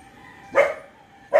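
A pet dog gives two loud, close barks about a second apart, the second cut off at the end, over a faint steady hum.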